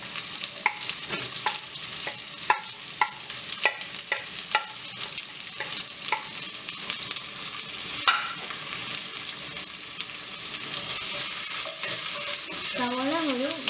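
Chopped onion sautéing with ginger and garlic for veg noodles: a constant close sizzle broken by repeated sharp spatula scrapes and taps against the pan, with no talking.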